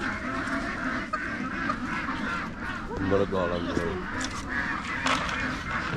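Geese and ducks honking and quacking in a noisy cluster, with people talking over the flock throughout.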